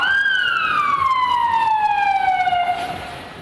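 An ambulance siren wails through heavy Bucharest traffic, a loud, clear tone sliding slowly downward as the vehicle passes nearby, then fading against a steady hum of cars.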